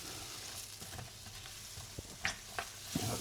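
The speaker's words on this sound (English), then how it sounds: "Give that a little move around in the pan." Apple pieces with cinnamon sauté in melted butter in a pan for an apple crumble, giving a steady soft sizzle broken by a few light spatula scrapes and taps toward the end.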